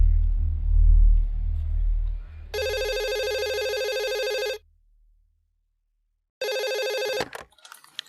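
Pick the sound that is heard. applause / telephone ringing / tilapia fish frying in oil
telephone ringing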